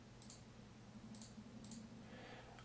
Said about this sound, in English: so I'm control clicking these